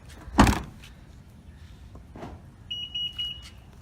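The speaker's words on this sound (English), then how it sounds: "For now, I'll lock my car from the back." A Honda HR-V is locked from the rear, giving a sharp thunk followed by a softer mechanical clunk, then a short run of high confirmation beeps.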